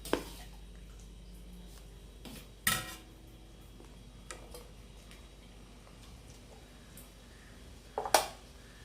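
Plates and cutlery clink while curd rice and prawn roast are served onto a plate at home: a few sharp, isolated clatters of utensil against dish, spaced apart over a quiet room.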